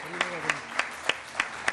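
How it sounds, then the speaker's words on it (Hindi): Steady, evenly spaced claps from an audience at a television show, six sharp beats in a slow rhythm, with a voice speaking briefly under the first few. "आप लोग जहां भी बैठे हैं इस बात पे तालियां जरूर बजा सकते हैं"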